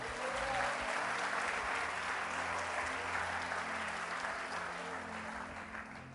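A church congregation applauds together in a sustained, full round of clapping that stays loud and even before tapering off slightly at the end, with no talking over it.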